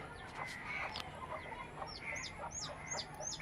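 Chickens suffering from a cold cluck softly and intermittently at a distance, with a few higher chirping calls near the end over low farmyard background noise.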